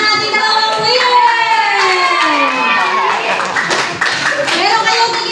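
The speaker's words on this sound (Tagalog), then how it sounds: "palakpakan natin ang ating dalawang winner" A group of children clap and cheer for two game winners, energetic clapping mixed with shouting and excited kid voices over a lively crowd, with an adult voice talking.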